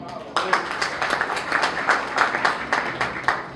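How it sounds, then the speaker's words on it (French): An audience at a book dedication ceremony claps for a speaker, a lively even patter of many hands starting abruptly and continuing steadily at moderate volume. "Et cela mérite bien des applaudissements"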